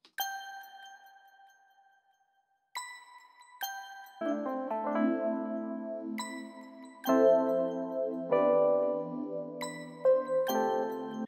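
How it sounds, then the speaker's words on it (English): Bright bell tones from a 90s slow jam R&B beat built in Logic Pro X ring out in sparse, sustained strikes, joined by warmer layered chords and repeated bell hits. "So we've got these bells right here."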